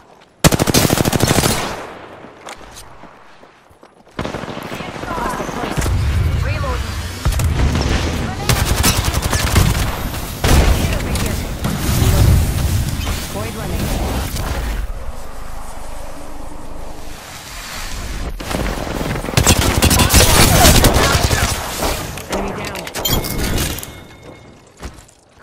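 Heavy automatic gunfire in the battle royale shooter Apex Legends, with sustained loud bursts and rapid rattling volleys broken by short lulls, some shattering impacts, and voice lines spoken over the shooting.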